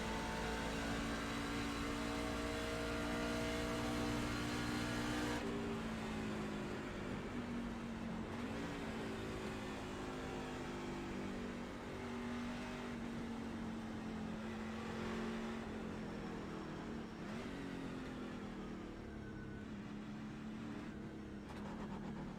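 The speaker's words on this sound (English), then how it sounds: "But I really like driving the trucks." A racing truck engine in iRacing drones loudly and continuously, its pitch climbing and dropping with gear changes and throttle, alone with no talk.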